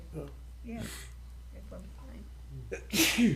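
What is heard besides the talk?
sneeze in a meeting room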